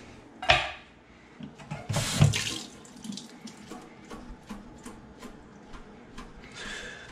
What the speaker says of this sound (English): Take some water out and then chop these